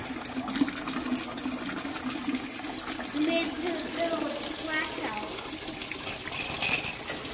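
Engine oil drains from a John Deere 8RX370 tractor into a container, a steady rushing liquid pour close by, with people talking over it now and then.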